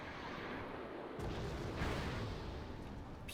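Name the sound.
artillery fire from Susongpo in video game Wargame Airland Dragon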